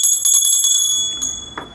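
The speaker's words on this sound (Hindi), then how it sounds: "थोड़ा सा घंटी बजा दीजिए" A small brass puja hand bell rings during a Hartalika Teej worship, several quick bright strikes in a steady cluster, then the shimmering tone decays over a second with a faint final tap near the end.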